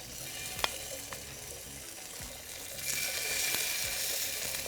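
Meat sizzles steadily in a hot pan, the frying hiss swelling louder partway through, with a few light clinks and scrapes.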